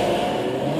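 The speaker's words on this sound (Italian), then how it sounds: "il motore sprigiona tutto il suo potenziale di 700 cavalli" Lamborghini Aventador with a 700 hp engine accelerating hard down the straight of the Modena racetrack, a loud, steady mid-pitched roar sustained close by throughout, with no talk.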